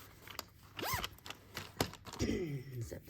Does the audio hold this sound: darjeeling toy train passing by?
no